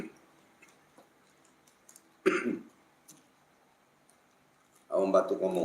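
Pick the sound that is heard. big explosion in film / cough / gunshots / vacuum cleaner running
cough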